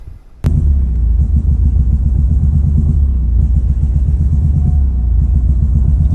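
A Ford Focus ST engine with an upgraded throttle body cranks and catches after a brief quiet moment, then runs loudly with a steady, rough rumble to the end.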